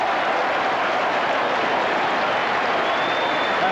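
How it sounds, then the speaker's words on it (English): St Kilda football supporters applaud loudly and steadily at a VFL match, a dense, continuous wash of clapping from a large crowd. "the Saints supporters in a very memorable weekend are on their toes and applauding loudly for that great piece of play"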